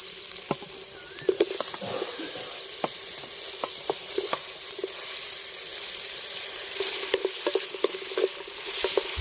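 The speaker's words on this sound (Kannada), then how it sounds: "ಈಗ ಟೊಮೊಟೊ ಹಾಕ್ಕೊತೀನಿ." Onion and tomato sizzling and frying in a pan over a wood-fired village stove, a steady hiss broken by occasional scrapes and taps of a stirring spoon, close and moderately loud.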